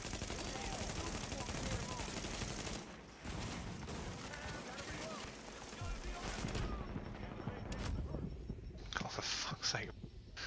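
Gunfire in a shooter video game's challenge-mode event, rapid bursts of shots and clattering effects under a dense, busy mix, with quieter bursts near the end and low voices talking over it.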